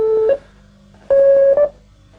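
Synthesizer sequencer replaying a stored melody pattern: two sustained bright electronic tones with a brief pitch step, separated by a short gap, loud and clean with no talking.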